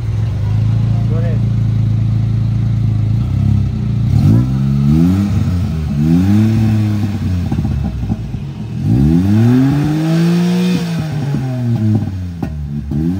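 A Suzuki Khyber car engine with its exhaust fitted, revving repeatedly in rising and falling sweeps over a steady idle, loud and close, while someone talks over it.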